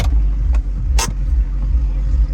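An Audi R8 first-generation V8 with manual gearbox rumbles at a steady idle-to-moderate rev, deep and close, with a brief sharp blip in the middle.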